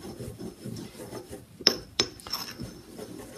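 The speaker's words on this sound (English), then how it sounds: "We'll then grind them up for a minute, try and make sure your mortar and pestle are clean before doing this." Benzoic acid mixture ground in a lab mortar and pestle gives a soft gritty rasping and rubbing, with two sharper clinks of pestle against the bowl partway through.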